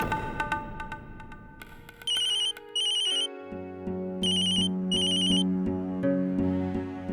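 A phone ringtone plays a repeating electronic melody, with bursts of high beeping tones over a steady tune, loud and close with no talking.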